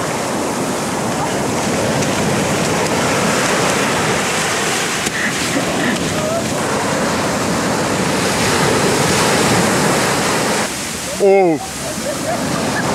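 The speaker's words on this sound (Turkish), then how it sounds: "Çok büyük bir dalga geldi." Big ocean waves crash on a rocky shore on the Turkish coast, a loud continuous roar and wash of surf with wind buffeting the microphone, while a voice briefly exclaims near the end.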